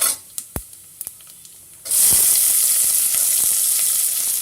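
Lentils frying in hot oil in a pan for millet khichdi: a few sharp pops at first, then a loud, continuous sizzle and hiss that holds steady to the end.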